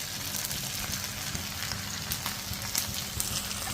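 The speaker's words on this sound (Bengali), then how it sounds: "আর এদিকে আমার পেঁয়াজটা লাল হচ্ছে, এখনও পুরোপুরি লাল হয়নি।" Sliced onions frying in a pan, headed for a Bengali shrimp dish: a dense, steady hiss and crackle of oil, loud and continuous with tiny pops scattered throughout.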